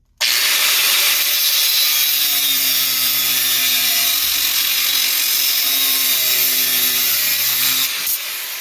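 A Porter Cable power tool grinds and cuts off a welded metal nub on a mud mower build, a loud continuous rasping whine with shifting tone that runs steadily throughout and stops near the end.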